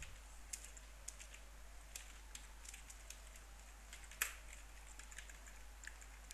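Sparse, faint key presses on a computer keyboard while C code is typed, soft clicks at an uneven pace with one sharper tap near the end, no talking.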